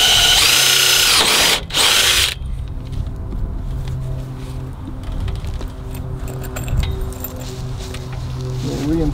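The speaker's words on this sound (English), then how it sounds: "I'll drill through the wire channel." A power drill bores through a metal wire channel, a loud, high whine running for about two seconds with a brief dip, then it stops and quieter handling noises and low background sounds follow.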